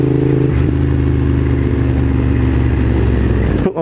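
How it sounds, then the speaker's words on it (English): A motorcycle engine revving hard on a dyno, loud and close, holding a steady high-rpm roar for several seconds before cutting off abruptly at the end. "Put my bike up on the dyno."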